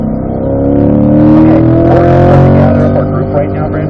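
A race car engine on the track at Spring Mountain accelerates out of a corner onto the straight, a loud steady rising drone with harsh rasp held for the full length, close up and continuous.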